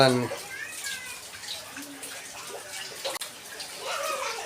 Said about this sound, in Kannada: ಈಗ ಮಳೆ ಚಾಲು ಆಗ್ಯದಲ್ರಿ, ಈ ಸೋರ್ಲಾಗತ್ತ ರೀ.